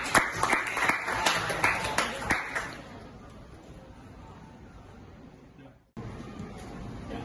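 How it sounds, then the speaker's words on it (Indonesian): Students in a classroom clap their hands together in a brisk burst of close, loud claps that stops abruptly after a few seconds, leaving quiet room tone. "Coba kasih tepuk tangan dong buat kalian semua"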